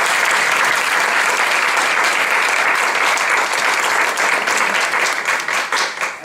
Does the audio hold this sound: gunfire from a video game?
no